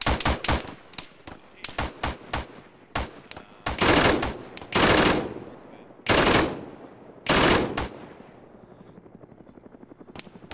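Video game gunfire during the Stalking Jaguar mission, with bursts of automatic shots, short rapid volleys and longer loud sprays separated by brief pauses, then quieter low rumble at the end.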